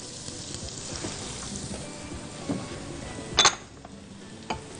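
Garlic dropped into melted butter in a pan, a faint steady sizzle with a few soft stirring clinks.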